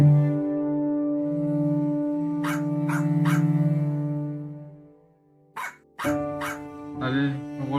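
A cartoon dog in the Christmas video game Milo and the Christmas Gift barks several times in short bursts over steady, tuneful game music, with a few more yips near the end.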